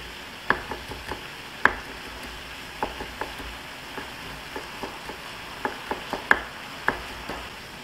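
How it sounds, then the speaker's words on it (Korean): A knife chops julienned garlic into smaller pieces on a cutting board, giving irregular sharp taps, some louder and some soft, scattered over several seconds against a quiet background with no talking. "채 썬 마늘은 다시 한번 작게 잘라주세요"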